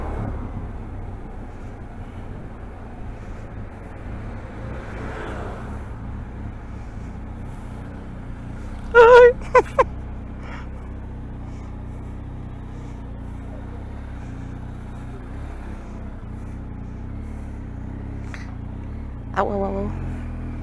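A 1250 motorcycle rides through Segovia, its engine a steady low rumble with wind noise throughout, broken by a few short sharp sounds partway through.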